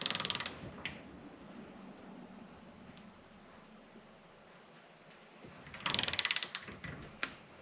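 A ratchet wrench tightens the cylinder bolts on a Honda FL350 engine, giving short bursts of metallic clicking at the start and again near the end, with quieter handling noises between.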